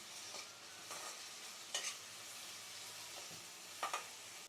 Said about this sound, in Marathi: टोमॅटो थोडा मऊ होईपर्यंत परतून घेऊया